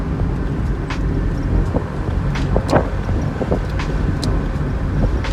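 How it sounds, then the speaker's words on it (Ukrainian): A 1986 Opel Kadett E cruising in third gear at about 60 km/h, its engine a steady low drone under road rumble and wind buffeting, heard from inside the car with no talking. "Третя передача 60 і мотор досить таки ну, не швидко крутиться."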